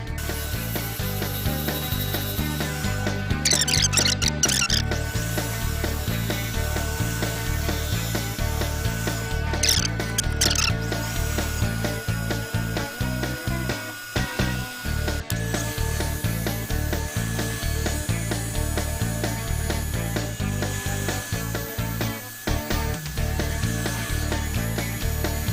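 A wood lathe spins a goblet while a captive ring is cut and sanded, giving a continuous rhythmic whirring rattle, steady and close, with a few sharper scraping bursts and no talking.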